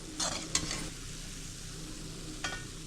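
Gulab jamun balls made from instant mix frying in hot oil, with a steady close sizzle and a few short scraping stirs of a utensil in the pan; no talking.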